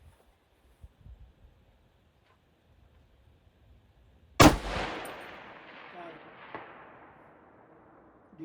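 An AR10 .308 rifle fires at a rock target 1,000 yards away outdoors: a single loud, sharp crack with a long rolling echo, a fainter report after it, and quiet ambience before the shot.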